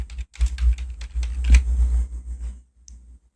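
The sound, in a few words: typing Control Panel on computer keyboard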